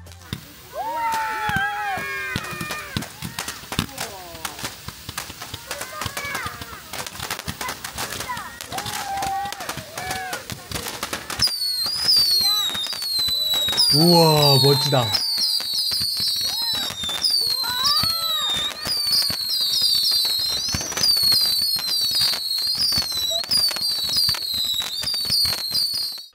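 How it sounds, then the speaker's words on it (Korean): Repeated fireworks bursts crackle and boom over a lively beach scene at night, with whistling launches and people exclaiming in between, growing denser toward the end. "바닷가로 내려가 보니 뭔가 본격적인 불꽃놀이가 준비되고 있네요."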